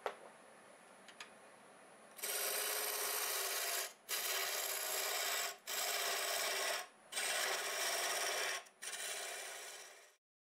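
A wood lathe at about 1000 RPM with a tool cutting the tip of a six-sided Christmas ornament, producing bursts of hissing scraping separated by short pauses, close and fairly loud, ending in a fading cut.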